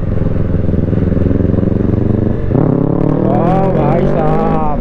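Motorcycle engine idling loud and close while the bike is moved, a steady throbbing rumble that shifts pitch and revs slightly partway through.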